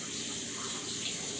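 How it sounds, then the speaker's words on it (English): Steady water from a kitchen tap while hands are washed, a continuous close hiss with no breaks or talk. "Wash my hands off."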